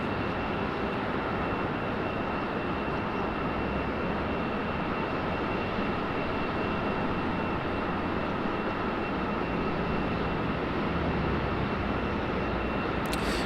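Air Force Two roars steadily at Raleigh-Durham International Airport, a loud sustained broadband jet engine rumble heard from the airfield with no talking.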